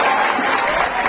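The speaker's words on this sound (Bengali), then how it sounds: "একটা জোরে হাততালি হোক।" An audience at an annual creative competition event claps, a brief dense burst of applause with a faint murmur of crowd noise mixed in.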